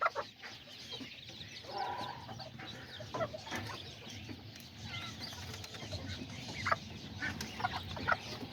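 Azteca hens with young chicks clucking and peeping in a farmyard, with soft scattered calls, brief wing flaps and a rooster nearby over steady low background noise.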